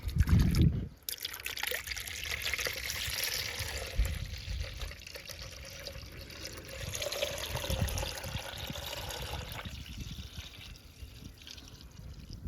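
Pink Toyota engine coolant is poured into a Toyota RAV4 with a soft, continuous trickle and dribble, quiet and close, with a brief louder splash at the start.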